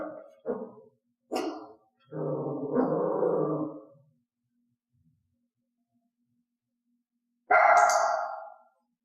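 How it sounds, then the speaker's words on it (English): A dog barks loudly in several sharp bursts, a longer run of piercing barks, then a pause before one final loud bark, close by with no talking. "I want a loud bark, so I simply stopped reinforcing low growls or quiet barks"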